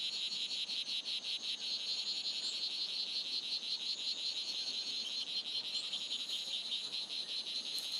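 A dense, continuous chorus of high-pitched strawberry poison dart frog calls, steady and shrill, filling the whole stretch with buzzing trills and no pauses.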